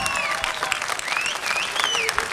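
A studio audience applauds during a Turkish folk song duet, a dense steady wash of clapping with a few tonal voice-like cries riding on top.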